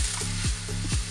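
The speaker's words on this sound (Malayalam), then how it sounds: "കടുക് പൊട്ടി തുടങ്ങി" Mustard seeds pop and splutter in hot oil in a clay pot, with a steady sizzle under a few sharp crackles and pops close by.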